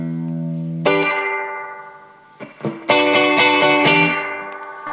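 Electric guitar chords through an EVH 5150 Iconic 15W 1x10 tube combo amp with its reverb turned up, the sustained notes trailing into a harsh, spacious wash before a run of choppy strummed chords rings out loudly.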